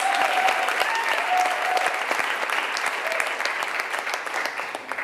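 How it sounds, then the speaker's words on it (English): Warm, sustained applause from an audience honoring a woman at a social-justice awards event, dense clapping at an even level throughout with faint voices calling out beneath it. "Give her a big round of applause."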